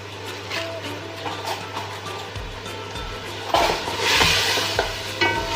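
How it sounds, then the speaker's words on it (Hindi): Biryani masala being stir-fried for a mixed vegetable pulao, a steady sizzle with scraping stirs of a spoon in the pan that grow louder midway, close and without talk. "इसको मैं 2 से 4 मिनट में भूनूंगी।"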